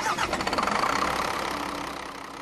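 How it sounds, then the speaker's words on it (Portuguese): Truck engine running with a rough, rumbling mechanical drone, slightly pulsing at first and then settling into a steady, moderately loud hum. "Olha o barulho que a gente estava falando do caminhão"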